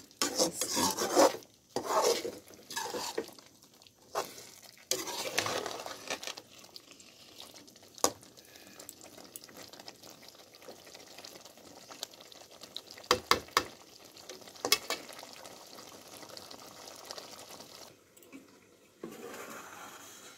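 Chicken being sautéed and stirred in a pan for curry, rough scraping and rubbing strokes of a spatula in irregular bursts over a soft background sizzle, close but fairly quiet, with a few sharper knocks midway.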